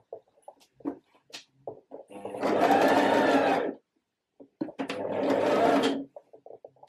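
A sewing machine runs a zigzag stitch in two close, steady bursts of about a second and a half each, with quiet clicks and fabric handling in between.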